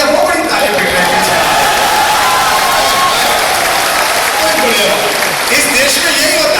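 Audience at a poetry event in Siliguri breaks into loud, sustained applause mixed with crowd noise and some cheering, while voices carry underneath.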